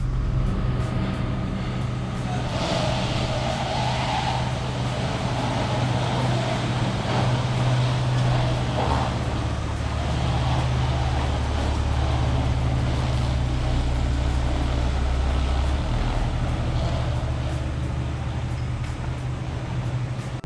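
An automatic BMW E36 323i idles as it warms up, a steady low engine drone continuing throughout with a slight rise in pitch partway through, close and constant with no talking.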